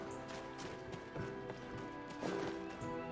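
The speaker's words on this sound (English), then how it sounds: "I'm gonna roll the dice when I start running my horse." A horse gallops in Black Desert Online, its quick clip-clop hoofbeats drumming in an uneven rhythm beneath steady game music and ambience.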